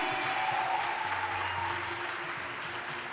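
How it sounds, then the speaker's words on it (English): Applause at a youth weekend event in the Northern Cape, a steady broadband wash of clapping sustained for a few seconds at moderate level, with a faint tonal hum underneath. "Give a loud round of applause to Tammy."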